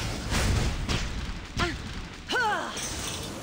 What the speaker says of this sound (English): How do we feel about fireworks?